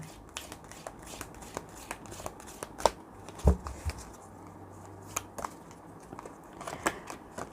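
Tarot cards being shuffled and drawn for a reading, giving soft, scattered papery flicks and rustles at close range with a few sharper snaps, heard alone without talk.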